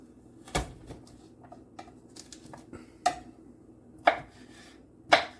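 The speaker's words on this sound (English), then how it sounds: "Gotta smash the garlic down." Garlic cloves being smashed on a cutting board for a quick improvised dish, about five sharp knocks spaced a second or so apart among small taps in a quiet room, no voices.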